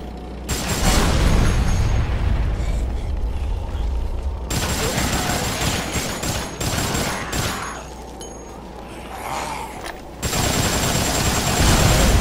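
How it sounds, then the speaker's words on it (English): A large in-game explosion in the zombie action game Dead Rising, with loud booming blasts and crackling rapid bursts like gunfire running across most of the stretch, dipping briefly before surging again at the end. "What an absolute rager of a fucking explosion that was."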